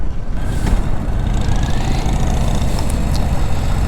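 A 2025 Harley-Davidson Low Rider S motorcycle engine roars loud and close as it accelerates, a continuous heavy rumble with rising pitch and no voices over it.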